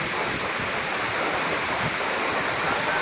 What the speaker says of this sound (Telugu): చూడండి వాటర్ ఫ్లో ఎలా ఉందో